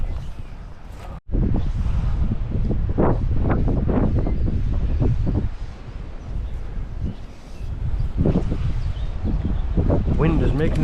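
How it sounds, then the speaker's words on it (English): Strong gusts buffet the microphone beside a brook, making a rumbling, roaring wind noise. Someone talks over it for most of the stretch. "Wind is making it almost impossible now to cast."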